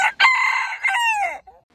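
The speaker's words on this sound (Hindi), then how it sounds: "मुर्गा सुबह सुबह ज़ोर से आवाज़ निकालकर लोगों को जगाता है।" A rooster crows loudly and close by, one long harmonic cock-a-doodle-doo that rises, holds and falls away, followed by a brief soft cluck.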